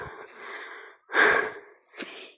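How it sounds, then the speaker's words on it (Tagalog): Heavy, labored panting from someone climbing an uphill path outdoors, three separate breathy exhalations, the middle one loudest, close to the listener with brief silences between them and no talking. "Hinihingal na po ako eh."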